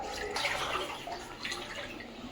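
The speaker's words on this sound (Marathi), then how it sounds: "फायनली आता आपण गेट उघडत आहोत आणि गेटमध्ये पाणीच पाणी" Water rushing through an opened gate into a flooded area, a steady broadband wash with brief surges, fairly close and continuous with no voices.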